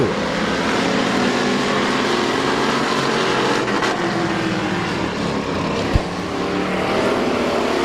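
Race cars roaring together at Midvale Speedway, a loud continuous engine drone from a pack of oval-track cars at the green flag, with a brief sharp knock near the end.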